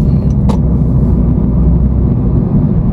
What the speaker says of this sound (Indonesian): Ya yang pasti road noise-nya sih, road noise-nya ini kebangetan